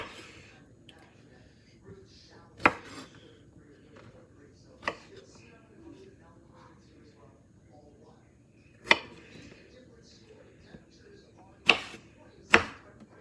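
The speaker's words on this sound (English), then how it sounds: "now it's time to start cutting up the strawberries." A knife cuts up strawberries on a board with a handful of sharp, spaced chops over a quiet background, with faint low talk in between.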